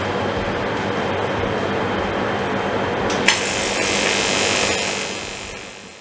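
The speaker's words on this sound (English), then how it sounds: "More welding." Aluminium tubes being welded together for a rotating camera rig give off a steady, harsh broadband hiss that runs for the whole stretch, with a brighter crackle partway through. No one speaks.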